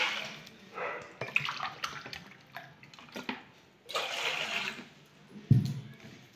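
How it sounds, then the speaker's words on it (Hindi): Two cups of water go into a saucepan on a gas stove for an immunity kadha, heard as a few separate pours and splashes, each followed by quieter handling and a sharp clunk near the end. "एथिरे दुई कप पानी देबा,"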